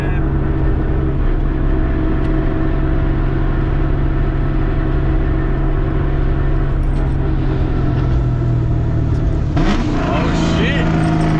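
A car spinning its tires at a car meet: a loud continuous engine roar and rumble, with a rising rev and tire noise near the end, close by with people talking over it.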